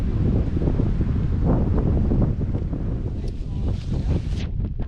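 Wind gusting through Black Rock Forest in New York, a loud continuous rush buffeting the microphone with low rumbling swells that ease slightly partway through.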